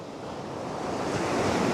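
Ocean waves washing onto a beach, a brief, steady broadband surge that swells slightly louder toward the end, with wind noise and no voices.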